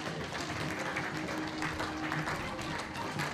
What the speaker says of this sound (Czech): Pojďme ještě jednou zatleskat novému šampionu pětiletých Řepců a Valků pro rok 2020.